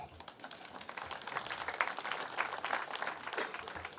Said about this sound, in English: Let us appreciate all the politicians by clapping for them.